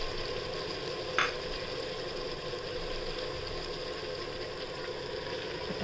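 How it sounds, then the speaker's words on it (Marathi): Potatoes, cauliflower and carrots sauté in a pan for masala rice, a continuous even sizzle and frying hiss with one brief scrape of a spoon near the start. "बटाटे, फ्लावर टाकले आणि हे गाजर छान परतून घ्यायचं।"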